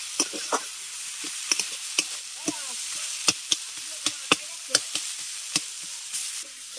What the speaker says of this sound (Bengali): এবার ভালো করে মোচা আর আলুটাকে কষিয়ে নেওয়ার পর